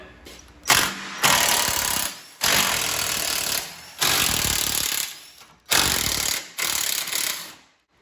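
An impact wrench with a 14 mm socket removes the core support bolts on a Fiat 500 Abarth. It fires in six loud, rattling bursts of a second or so each, separated by short silent gaps.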